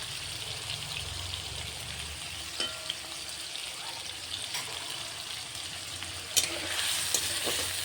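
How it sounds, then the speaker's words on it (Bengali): Potato, cauliflower and carrot pieces frying in a pan, a steady low sizzle under occasional stirring scrapes and a few sharp utensil knocks, close and continuous. "আলু, ফুলকপি, গাজরটা এই পর্যন্ত ভাজা হলো"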